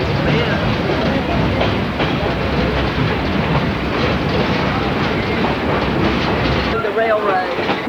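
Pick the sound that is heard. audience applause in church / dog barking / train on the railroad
train on the railroad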